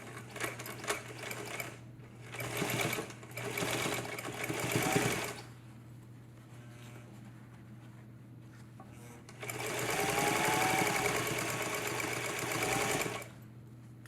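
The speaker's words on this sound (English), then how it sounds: "And then you could start sewing that on." A sewing machine stitches a zipper onto a tote bag in a steady mechanical whir, running in two separate bursts, the second longer, with quiet pauses between and little talk.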